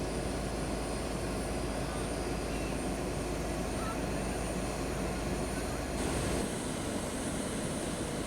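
Steady, loud roar of an aircraft engine at an airport stand during refueling at Kuala Lumpur International Airport, a continuous broadband drone filling the whole stretch, with a voice talking underneath.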